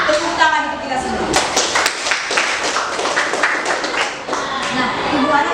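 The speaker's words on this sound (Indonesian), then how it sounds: "tepuk tangan untuk kita semua." A class of Indonesian eighth-grade students claps together during a lesson, a dense patter of hand claps running for several seconds while a teacher's voice carries on at the start.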